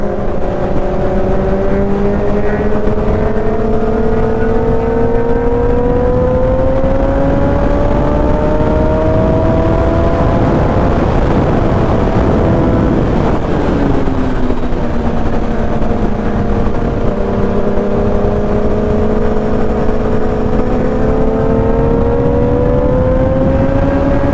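Kawasaki ZX10R and Z900 sport motorcycles riding along at speed, their engines droning loudly and continuously with pitch rising and falling through gear changes, heavy wind rush throughout.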